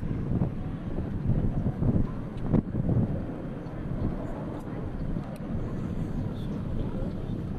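US Navy Blue Angels jets performing at the 2003 Dayton airshow give off a steady, distant roar that swells and fades, mixed with wind buffeting the microphone while an announcer talks over it.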